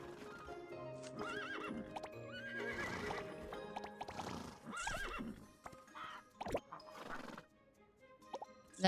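Horses in the Starsand Island video game neighing and whinnying several times over quick clip-clopping hooves and plopping steps, with game sounds and no talk.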